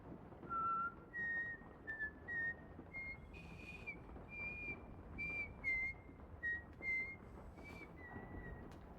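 A young girl whistles the Itsy Bitsy Spider tune on the Santa Cruz boardwalk in a film scene, with clear, thin melodic notes in short phrases over a soft background rumble.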